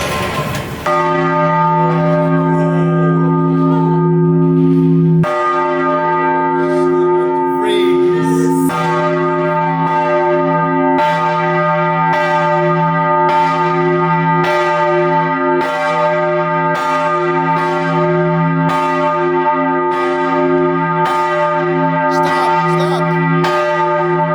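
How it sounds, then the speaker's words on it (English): Large bell struck repeatedly, each strike ringing out with long sustained harmonic tones that overlap into a continuous loud, resonant drone with a steady rhythm of about one strike every second or two. "this is like a bell"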